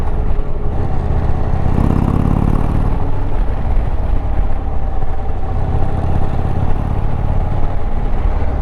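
An Indian Chieftain motorcycle engine drones steadily with a low, rumbling tone, heard from the rider's position on the road with wind noise mixed in, loud and continuous throughout.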